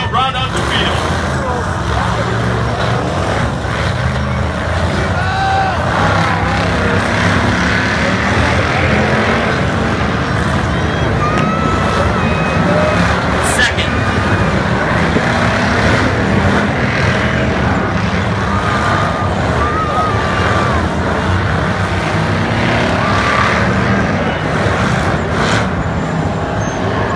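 Ultra4 off-road racing vehicles roar together at a race start, a dense, continuous engine and tire rumble with broad noise throughout, loud and sustained, with a commentator talking over it.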